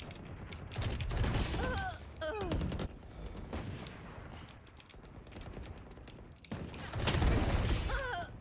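Gunfire bursts in the tactical shooter game Valorant, loud volleys near the start and again near the end, with quieter shots and game effects between and no speech.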